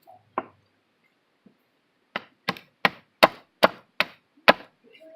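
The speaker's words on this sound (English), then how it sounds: "would also use the axe or chopping tool to make this smooth" An axe or chopping tool strikes wood to smooth a digging stick: a few crisp, close blows, a pause, then a quick run of about seven sharp knocks in a row.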